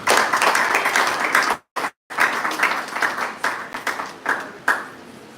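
An audience claps in a live show, a loose burst of many hands that cuts out briefly, then resumes in uneven, fading rounds.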